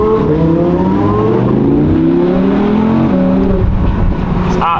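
An Audi R8 V10 with four-wheel drive accelerates hard, its engine loud and near from inside, pitch sweeping upward through repeated gear shifts, ending in a brief burst of noise.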